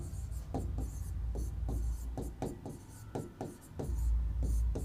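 A pen scratches across paper as a paragraph is written by hand, with irregular close strokes and taps and faint background hum.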